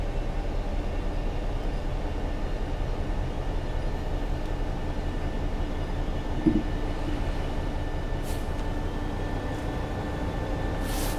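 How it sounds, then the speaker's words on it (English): Colas Rail Class 66/8 diesel locomotive in a train simulator with a sound mod, a steady loud rumbling drone of the engine and rolling wagons throughout, with faint hissing brake sounds rising briefly near the end. "you can hear the brake sounds much better with this mod."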